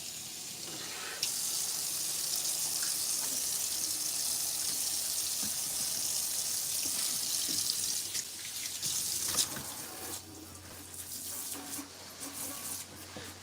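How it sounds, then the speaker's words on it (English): Tap water runs steadily into a sink while soap is rinsed away, a continuous close hiss and splash with slight changes in the flow and no talking. "I gotta wash the soap out of the sink and dry it."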